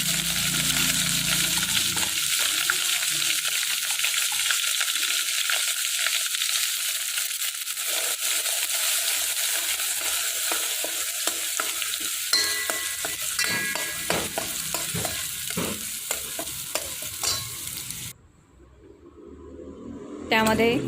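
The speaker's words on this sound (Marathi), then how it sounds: "आता इकडे तयार केलेला मसाला आपण पातेल्यामध्ये परतून घेणार आहोत।" Masala being sautéed in a pot for a coconut brinjal (khobryachi vangi) curry, with steady sizzling and repeated scraping stirs up close for most of the stretch, cutting out near the end.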